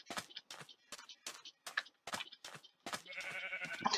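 Sheep in the video game Minecraft give short, separate bleating calls in a quick, regular series. Then a brighter, busier game sound takes over near the end.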